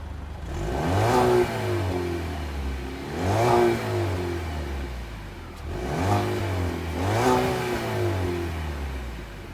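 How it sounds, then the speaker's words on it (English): A 2019 Cadillac CTS with the 2.0-liter engine revving hard four times, each throttle blip rising and falling in pitch over a steady idle, recorded close from behind the car with no talking. "rev it up a little bit"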